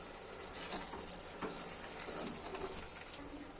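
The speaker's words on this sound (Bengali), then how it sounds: "ভাজা হোক আর একটু" Oil fries with a faint, steady sizzle and soft crackle, its hiss continuous and even throughout, with no talk.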